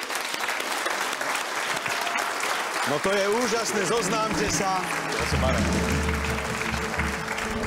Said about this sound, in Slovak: No tak poďte, veľký potlesk.